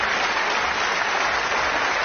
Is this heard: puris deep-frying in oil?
no